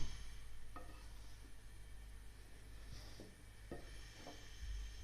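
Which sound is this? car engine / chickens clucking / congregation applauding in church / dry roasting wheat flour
dry roasting wheat flour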